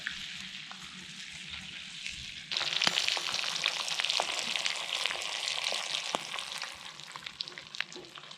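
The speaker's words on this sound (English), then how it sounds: "just make sure you give them a stir every now and then. Get that garlic in there." Razorfish and garlic frying in a pan at a campsite on Kangaroo Island, with a steady close sizzle that jumps louder partway through as the pan is stirred, with scraping clicks over the hiss.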